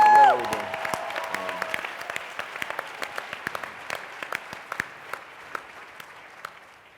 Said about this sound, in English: I think another round of applause for the sisters who were up here dancing